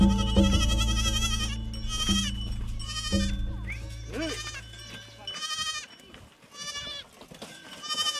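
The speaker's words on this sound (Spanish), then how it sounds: "Tenemos más que cabra nada más" Goats on a small farm in the countryside bleat repeatedly, several loud wavering calls overlapping one another, with low background rumble early on and a few calls trailing off toward the end.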